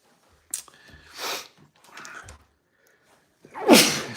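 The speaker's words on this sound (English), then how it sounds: "I feel like I got to sneeze." A single sneeze bursts out near the end, loud and close, after a few softer breathy sounds and rustles outdoors beside a hose being rewound.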